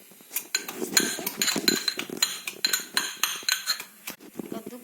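Fresh ginger pounded in a mortar in a home kitchen for a honey cough remedy, giving a quick run of sharp, clinking knocks, loud and close, with no voices.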